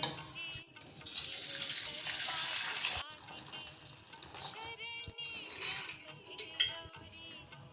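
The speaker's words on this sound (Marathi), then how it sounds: "हा स्टॉक जो काढलाय आपण तो गाळून घेऊ." Cooked mung bean stock is strained after boiling, with liquid pouring and splashing through a strainer in uneven bursts along with light clinks. Someone talks under it.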